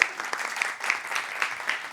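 Brief, fairly faint audience applause during a live session with a restaurant CEO, thin scattered clapping with a few sharp individual claps.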